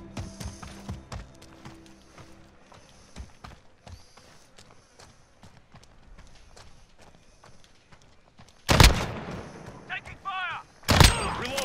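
Gunfire in Call of Duty: Modern Warfare, a 2v2 match, where two loud, sharp shots break out near the end after a stretch of quieter in-game movement and clatter.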